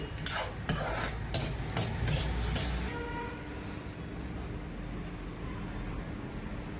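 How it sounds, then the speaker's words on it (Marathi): Sesame seeds stirred and roasted in a pan over low gas: a handful of scraping, rattling strokes from a utensil against the pan early on, then quieter continuous hiss and faint dry crackle. "आता हे मी तीळ भाजून घेते आहे।"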